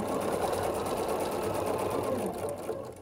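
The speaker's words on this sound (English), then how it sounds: "we're going to sew down with a 1/4 inch seam allowance" Domestic sewing machine stitching scrappy quilt block pieces together with a quarter-inch seam, a steady close whirring hum running continuously before easing off near the end.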